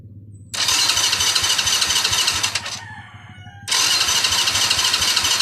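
An old motorcycle's electric starter squeals loudly in two long cranking bursts with a short pause between them, close to the listener.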